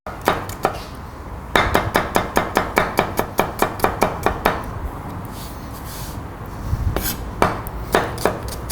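A knife chops onion on a board in quick, even strokes. Two runs of sharp, close taps are split by a short pause, and a few more chops come at the end. There is no talking.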